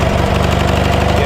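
A small Kohler engine idles steadily up close with a fast, even, loud chugging throb and no talking over it.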